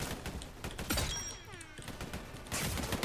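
Rapid bursts of gunfire from a horn-barrel turret in a chaotic shooter game, a quick run of loud cracks and thuds with ringing effects between volleys, picking up again near the end.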